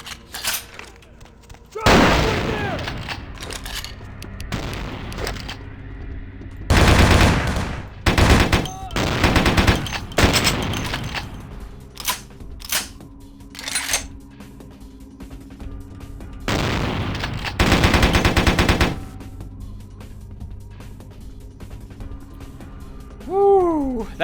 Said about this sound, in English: watch out for those shotguns, boy. Those hurt.